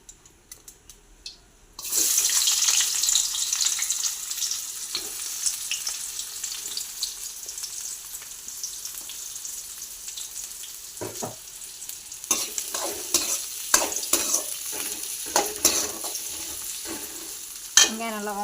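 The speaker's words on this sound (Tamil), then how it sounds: "வெங்காயம் நல்லா வதங்கிட்டோம்" Onions frying and being stirred in hot oil for a Sunday fish curry, with a steady loud sizzle and scraping stirs that grow more frequent toward the end, no talking.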